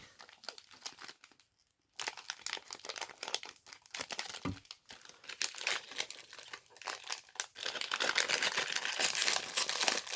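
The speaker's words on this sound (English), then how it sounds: "This one has a bag inside it. Okay, opening it up." A plastic bag from a Lego Super Mario character pack crinkles and tears open at close range, steady rustling that pauses briefly early on and grows louder and denser toward the end.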